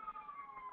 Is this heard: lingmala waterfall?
no